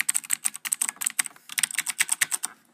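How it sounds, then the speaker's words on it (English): Rapid, steady typing on a Razer BlackWidow Ultimate mechanical keyboard, a close run of crisp, bright key clicks in a busy rhythm with no voices. "I want you to hear this while I'm playing with the keyboard."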